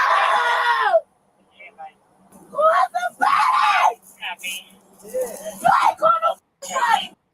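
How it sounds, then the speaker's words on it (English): A woman screams and wails in harsh, strained bursts during a police traffic stop over drunk driving, close and loud, broken by brief pauses. "That's the scream of somebody who knows that everything is going straight to the shitter."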